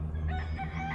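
A rooster crows loudly and close by, a single sustained call filling the moment with no other sounds.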